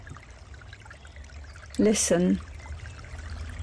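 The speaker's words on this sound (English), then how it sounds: "to the trickle as it is drawn inimitably to the Painswick brook" A small stream of water trickles toward Painswick brook beside old pear and apple orchards. A soft, steady outdoor babble runs throughout, and a voice speaks briefly over it.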